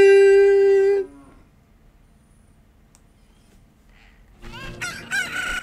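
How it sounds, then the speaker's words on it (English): A loud rooster crow from a chicken hatching out of an incubated egg in The Legend of Zelda: Ocarina of Time, followed by a quiet pause and then a burst of bright game jingle tones. "Look, a chicken is hatched from the egg you were incubating."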